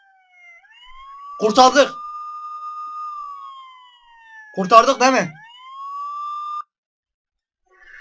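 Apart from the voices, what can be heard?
ambulance siren in Minecraft video game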